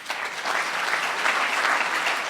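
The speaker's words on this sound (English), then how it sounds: "Give him clap." Audience applause at an ambassadors' summit, a steady, moderately loud wash of many people clapping throughout, fairly even in level, with no voices over it.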